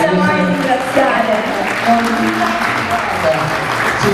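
Sustained applause from the audience at a Miss Reginetta d'Italia Veneto beauty pageant fills the hall, loud and steady, with a voice talking over the clapping.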